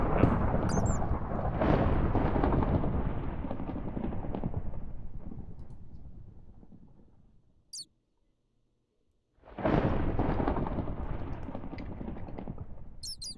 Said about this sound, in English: that's just the sound effect for the lava infuser